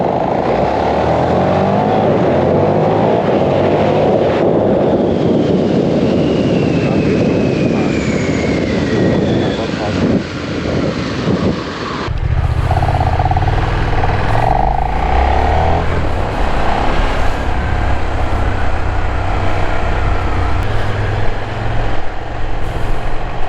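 A KTM Superduke 1390 Evo R motorcycle is ridden on a wet road, with loud, continuous engine roar and heavy wind rush, shifting to a deeper, rumbling drive partway through, with no talk heard.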